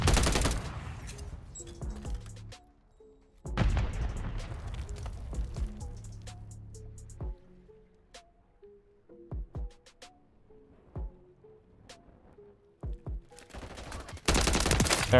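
Gunfire from Modern Warfare 3 with a Striker build, loud sustained automatic bursts, then sparse single shots and short volleys between quieter gaps, ending in another heavy burst.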